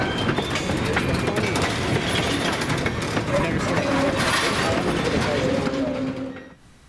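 An ALCO RS32 diesel locomotive on the Falls Road Railroad throttles up to track speed departing Medina, New York, near Salt Works Road. Loud rumbling passes with rhythmic clickety-clack of wheels and faint squeal before fading abruptly at the end.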